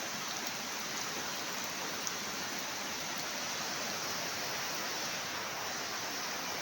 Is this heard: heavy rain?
yes